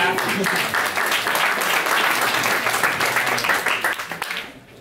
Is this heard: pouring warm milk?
no